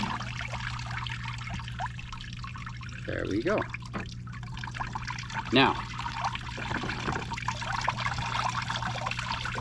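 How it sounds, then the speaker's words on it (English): Water trickles and flows steadily over a Miller table used for fine gold recovery, a soft continuous wash beneath a man's nearby speech, with a couple of brief splashy bursts. "water's still flowing over this end"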